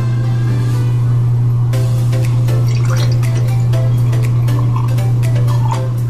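Apple cider pours into an empty glass, giving a run of small liquid ticks and splashes. A strong, steady low hum sits under it throughout.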